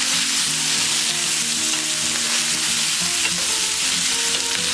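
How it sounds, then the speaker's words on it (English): Oyster, shiitake and cremini mushrooms fry in a paella pan with a loud, constant sizzle, while a spoon stirs and scrapes through them up close and no one speaks. "So I'm going to stir that around."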